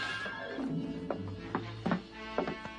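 A horse neighs in a short whinny, with hoof clops and taps mixed in over a background of faint music.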